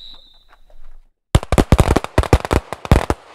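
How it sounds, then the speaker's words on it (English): A handgun fires a rapid string of sharp, loud reports, roughly a dozen or more shots in quick uneven succession, while the shooter moves during a shoot-and-move drill, after a brief quiet lead-in. "as I draw, the gun gets pressed up and I can fire as I move."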